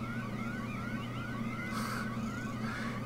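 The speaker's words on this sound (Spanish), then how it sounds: "¿Qué se supone que es esa alarma?" A looping alarm siren from the horror video game Bad Dream: Coma, rising and falling steadily and continuously at a moderate level, with no voices over it.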